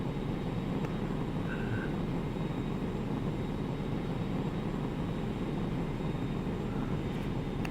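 A steady, continuous roar of an F-86 jet engine in the combat flight game War Thunder, loud and unbroken throughout with no voices.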